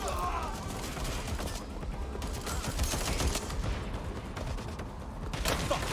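Gunfire in the video game Watch Dogs Legion, rapid bursts and cracks forming a busy fusillade over mechanical clatter, with voices heard in places.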